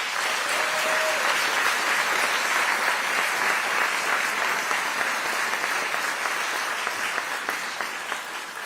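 A live audience at a city's State of the City address gives the clerk's office a sustained round of applause, a steady dense wash of clapping that fills the whole stretch at an even level and tapers slightly near the end.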